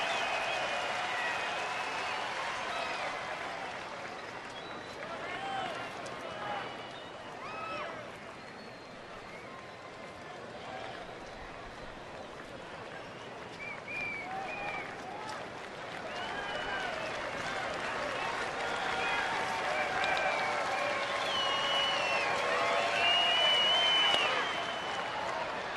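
Baseball stadium crowd in Texas cheering and clapping during an Oakland game, a distant, sustained wash of crowd noise that swells toward the end.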